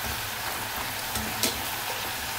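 Food sizzling and crackling in oil in a hot pan as it starts to brown like potato chips, a continuous bright fry with a stirring scrape or two, close and alone.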